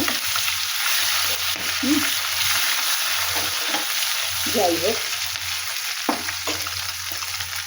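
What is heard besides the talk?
fish oil frying in a pan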